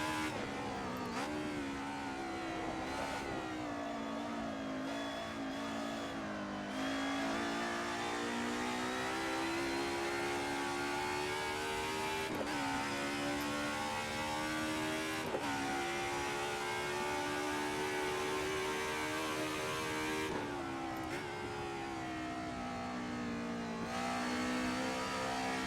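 A BMW M3 E30 touring car in a 90s DTM race at Bridgehampton in a racing video game, its engine revving hard and steady, climbing in pitch with several sharp gear-shift breaks, loud and close.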